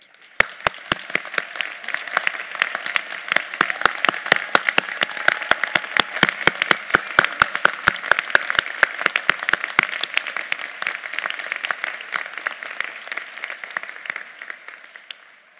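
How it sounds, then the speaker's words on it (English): A commencement audience at a college of the arts claps for standing military members and veterans, a long, full round of applause with sharp individual claps standing out, swelling through the middle and gradually thinning near the end. "please stand and receive our applause and heartfelt appreciation for your service to our great nation"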